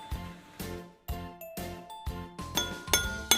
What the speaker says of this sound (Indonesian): gelas yang dipukul menggunakan sendok